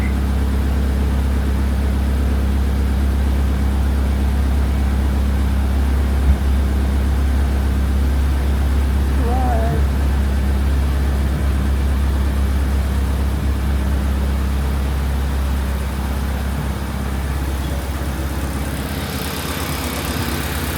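Honda K24 car engine idling while warming up after sitting unused for about a month, a steady low rumble that runs unbroken and fairly loud for the whole stretch, with a faint brief squeak near the middle.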